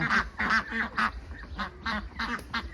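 White two-month-old laying ducks on a duck farm quack in a rapid series of nasal calls, several birds overlapping at close range with no talking.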